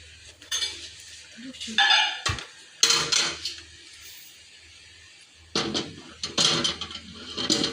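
Clinking and clattering as a new Toshiba microwave oven plate is set in place, sharp ceramic and metal knocks in separate bursts with quiet gaps between them.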